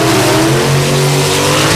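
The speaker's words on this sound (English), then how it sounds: "That's that Ram with a Cummins." A Ram pickup with a Cummins diesel revs hard at a drag strip, a loud steady engine drone with rising harmonics filling the whole stretch, close and alone.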